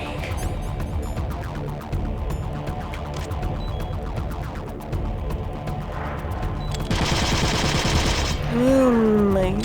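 Rapid automatic gunfire in Metal Gear Solid: The Twin Snakes during a fight with the Cyborg Ninja, a steady rattle of closely spaced shots with game music and effects layered underneath.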